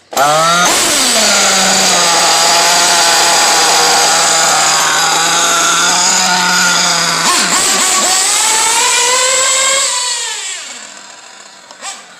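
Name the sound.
small engine running during break-in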